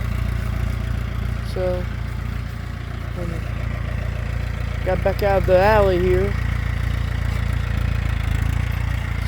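A 2008 Mahindra 6025 60-horsepower tractor engine runs at a steady low idle, a constant deep rumble filling the whole stretch while someone talks briefly over it midway.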